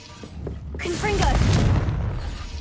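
A Confringo fire spell bursts in Hogwarts Legacy with a booming, crackling blast that swells and rolls on through the middle, overlapping a spoken incantation and other game sounds.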